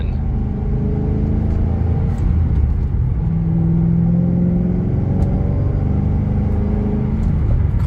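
Supercharged 2007 Ford Mustang Shelby GT500 with Bassani exhaust pulling away on cold tires, a loud close engine drone rising steadily in pitch with a continuous rumble and no talk.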